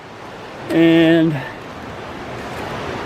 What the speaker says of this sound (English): the water just keeps pouring out and pouring out and pouring out